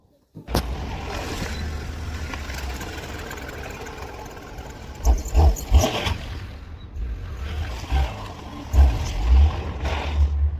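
A vehicle is dragged across a bumpy yard during a test drag, its engine rumbling with irregular heavy thumps and clunks as it lurches over the rough ground, loud and close, with bursts of knocking.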